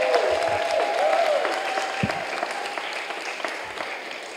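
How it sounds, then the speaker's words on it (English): Audience applause at a Juneteenth celebration, a continuous wash of clapping at moderate volume with a few low thumps and a faint tonal hum early on. "So let's give them a round of applause."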